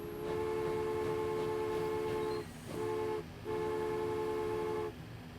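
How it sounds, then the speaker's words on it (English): A train in Transport Fever 2 sounds a steady, tonal horn in three blasts: one long, one short and a final long one, loud and prominent over a low rumbling background. "Let's watch a new train."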